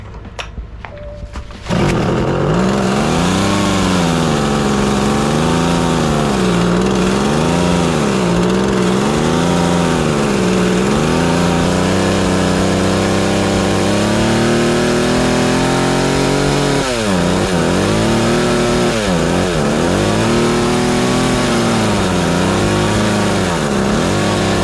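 A MAC 3216 chainsaw, old and abandoned and just repaired with its carburetor being adjusted, starts and runs loud and close, its engine note swinging up and down through repeated revs before settling into steadier running.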